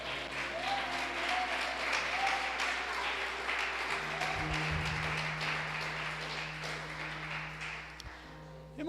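A church congregation in Juiz de Fora applauds during a service, a sustained wash of many hands clapping at moderate distance with a low hum and a faint tone underneath.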